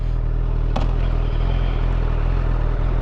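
A Honda CBR1000RR sport bike on the move, its engine giving a steady, loud, low drone that holds even throughout with wind rush on top and one brief clatter near the start.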